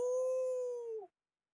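A single sustained, tonal 'ow' howl made by a human voice imitating a wolf-like cry, loud and close, held for about a second before trailing off into silence.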